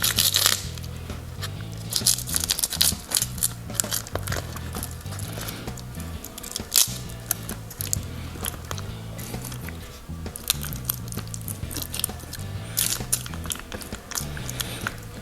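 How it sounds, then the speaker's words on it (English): A potato masher crushes honeycomb in a bucket, giving wet, sticky squelching and crackling of wax in a steady rhythm of repeated presses, close and loud throughout with no talk. "And I just got my potato masher, and I'm just going to crunch them up right here."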